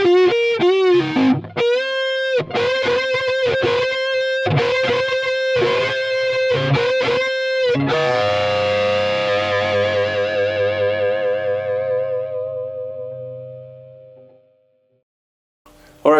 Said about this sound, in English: here is the outro solo played with distortion to add a little bit more sustain